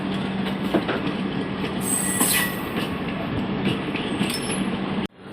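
The Amrapali Express passenger train rolls along with a continuous rumble of rail noise. Wheels squeal and click over the track, and the sound cuts off abruptly near the end.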